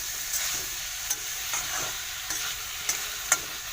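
Pieces of pork fry in a pan for an Assamese pork curry, a steady bright sizzle broken by occasional scraping stirs and soft clicks of the utensil, close but fairly quiet.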